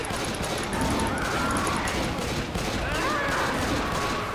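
Rapid gunfire in the Left 4 Dead 2 video game, a dense continuous fusillade of shots with no pauses, loud and close throughout.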